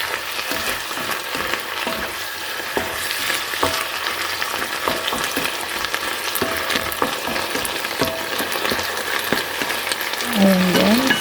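Beef with beans sizzles steadily in a hot pan while a spoon scrapes and stirs it in irregular strokes, the frying loud and continuous throughout with a brief clatter near the end.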